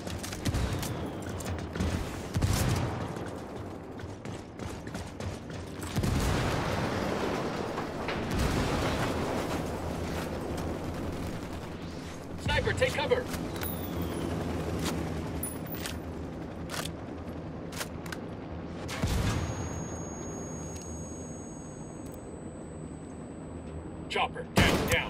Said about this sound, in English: Apache's about to fire.